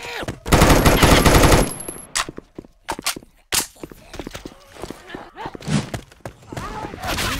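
Gunfire rattles in bursts during the video game Left 4 Dead 2, with a long sustained volley at the start, then scattered single shots, clicks and reload clatter.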